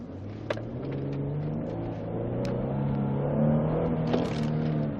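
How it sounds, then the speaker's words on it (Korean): A Kia K9 3.3-liter GDI engine revs up steadily as the car accelerates, a smooth rising drone heard from inside the cabin, loud and continuous. "이 대형 차량에 들어가는 3300cc 엔진 엑셀 한번 밟아볼게요"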